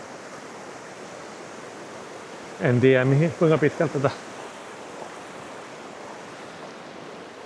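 River rapids rush in a snowy winter landscape in Finland, a steady broadband roar throughout, with someone briefly speaking over it in the middle.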